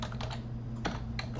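A few clustered keystrokes on a computer keyboard while typing a code comment, close and crisp over a steady low hum, with no talking.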